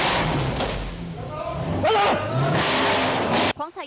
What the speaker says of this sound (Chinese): 狂踩油门